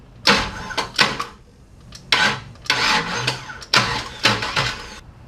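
A V8 engine fitted with a Summit Racing Max-EFI 500 system bump-started to seat the distributor, giving several loud bursts of starter cranking separated by short pauses, close by and without talk.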